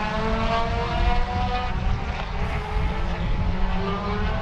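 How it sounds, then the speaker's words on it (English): Open-wheel race cars lapping the Sebring circuit during the Love Bug Dash, a loud continuous engine roar that swells and sweeps past at close range, with no voices over it. "here comes your open wheelers, and they should be making their way around"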